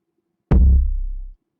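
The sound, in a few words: 808 bass sample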